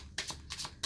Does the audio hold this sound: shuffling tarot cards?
yes